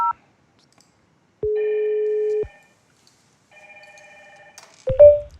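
An extension on a DINSTAR UC20 IP PBX being called: a short beep, then a loud one-second ring tone, a pause, and a second warbling ring burst, ending in a brief clatter as the call is picked up.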